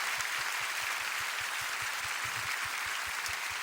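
An audience applauds church band members at a prayer gathering, a steady, moderately loud wash of clapping with a faint rhythmic pulse underneath.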